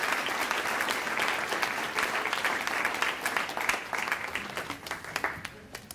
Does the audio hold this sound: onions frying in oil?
no